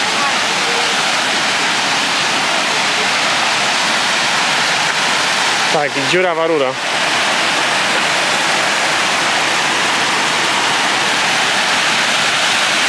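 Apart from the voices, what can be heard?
Szklarka Waterfall rushing water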